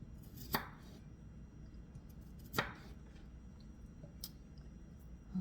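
A knife mincing on a cutting board for salt cod fritters, two sharp isolated chops followed by a fainter tap, quiet and close with a low background hum.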